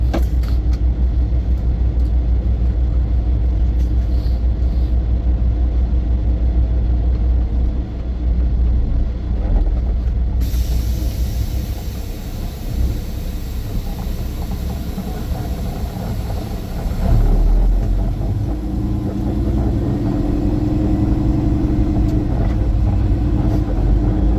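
A truck hauler bound for Talladega pulls out onto the road, its heavy diesel engine giving a continuous low rumble that shifts in tone partway through, close and loud with no talk.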